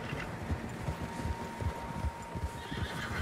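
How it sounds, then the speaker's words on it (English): Several horses whinny and neigh in Red Dead Redemption 2 gameplay, with steady clip-clop of hooves moving throughout and a faint low wind bed. "Horses, quite a few of them."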